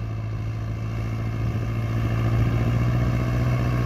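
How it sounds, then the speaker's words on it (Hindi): An Arjun Novo tractor with an AC cab strains at full load at about 2000 to 2200 rpm, dragging an 8-foot, 56-blade Maschio rotavator through a puddled field. The engine gives a continuous heavy rumble with no voices. "फुल लोड पे 2000 आरपीएम पे 2200 आरपीएम पे उसके बाद भी ट्रैक्टर जो है बंद होने की नौबत आ रही है"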